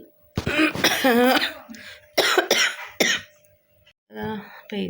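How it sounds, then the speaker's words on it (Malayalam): Several bursts of harsh coughing at close range, some in quick runs and others spaced apart, with a person speaking between the fits. "ചുമ വന്നാൽ പിന്നെ നിൽക്കൂല കേട്ടാ"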